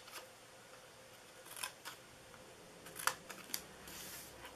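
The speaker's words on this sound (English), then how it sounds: "now we're going to cut up each side here" Scissors snip paper for a small Christmas treat box with a few quiet, separate cuts close by in an otherwise hushed room.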